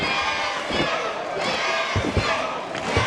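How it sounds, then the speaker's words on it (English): Wrestling show crowd roaring and chanting in support of Jacksyn Crowley, a dense, loud arena cheer with shouts rising over it and a few thuds from the ring. "The crowd now rallying behind Jacksyn Crowley."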